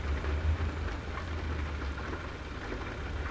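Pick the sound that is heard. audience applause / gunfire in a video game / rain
rain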